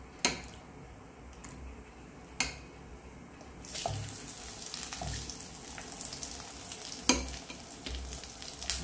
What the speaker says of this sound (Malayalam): ഇനി ഇത് അതിലേക്ക് ചൂടുത്തിട്ട് പൊരിച്ചെടുക്കാം